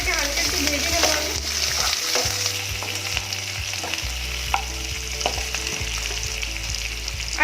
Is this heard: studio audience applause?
no